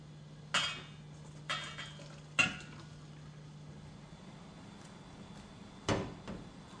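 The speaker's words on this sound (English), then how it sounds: "turn off the hob for the pasta and vegetables and drain them into a colander in the sink" Saucepans and a colander clatter in a kitchen sink as pasta and broccoli are drained for a tuna bake: four or five separate metallic clunks and clinks, moderately loud and spaced out, over a steady low hum.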